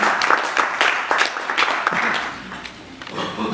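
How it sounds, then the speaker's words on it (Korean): An audience at a formal general assembly meeting in a Seoul hotel applauds a pastor, steady crowd clapping of moderate loudness that gradually tapers off. "우리 박수 한번 치겠습니다"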